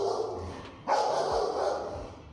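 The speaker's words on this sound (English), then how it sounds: "You can hear in the barking" An insecure, fearful dog barks in quick, strained bursts with whimpering edges, near and fairly loud, continuing steadily for a couple of seconds.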